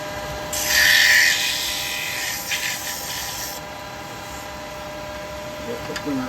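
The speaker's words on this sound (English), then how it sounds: "I'm going to give that a little sand in there" Pine wood being sanded on a woodturning lathe, a short burst of hissing abrasive rubbing that fades after a few seconds over the lathe's low hum.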